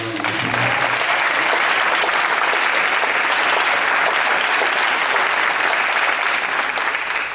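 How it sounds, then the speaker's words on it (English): Sustained, loud applause from a church audience at the Arthur Henry family event at Shiloh Baptist Church in honor of Deborah Watts; steady, dense clapping continues for the whole stretch without letting up. "give Deborah Watts a round of applause"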